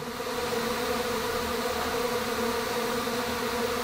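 A dense, steady buzzing hum of many stingless bees in flight, a colony swarm of hundreds, continuous and fairly loud, like a swarm hovering close by.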